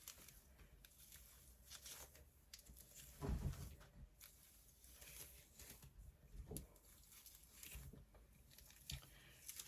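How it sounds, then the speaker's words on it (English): A dog chews on a workout bra indoors, giving soft, irregular biting and squishing sounds with a few louder crunchy bites scattered through the quiet room. "This dog is chewing on my bra."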